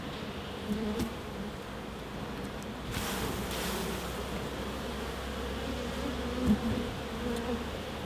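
Honey bees in a hive open for a pre-winter inspection, giving a steady low buzzing hum that runs throughout with small swells, close and moderately loud, with no talking.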